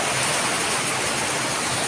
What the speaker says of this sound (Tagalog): Malakas at ulan at hangin po.